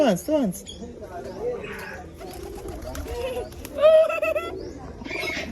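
Pigeon coos and chirpy bird calls sound close by alongside a tarsier, recurring in short bursts while people talk nearby.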